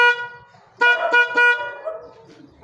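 A Kostef extreme loud dual-tone high and low car horn installed on a Mitsubishi Adventure sounds in several short, loud honks, close by, with a faint dog bark in the background.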